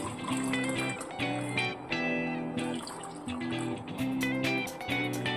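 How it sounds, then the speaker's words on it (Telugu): Boiled milk is poured from a vessel into a cup in repeated bursts, a close, bubbly liquid trickle that rises in pitch as it fills, with brief clinks between pours. "కాచిన పాలు ఇవి ఇలా పోసుకుని మనము"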